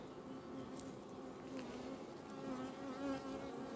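Honeybees buzzing around open beehive colonies, a soft continuous drone of many wings close by, gently rising and falling with no speech.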